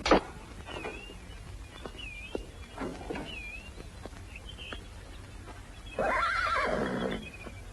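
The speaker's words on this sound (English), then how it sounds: "Looks like a fine horse." A horse gives a loud, quavering whinny near the end, after scattered hoof clops and bird chirps in the background.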